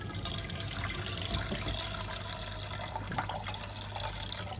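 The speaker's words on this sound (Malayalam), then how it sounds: "2 ഗ്ലാസ് വെള്ളം ഒഴിക്കുക." Two glasses of water are poured into a pot to make syrup, a close splashing and gurgling stream that runs continuously at low level with no speech.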